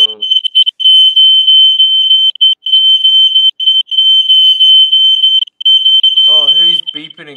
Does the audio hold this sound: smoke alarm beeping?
yes